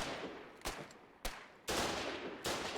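Gunfire in the online war game Foxhole during frontline fighting: four sharp, loud shots spaced irregularly, with a sustained noisy burst of fire between the third and fourth, over a low background rumble.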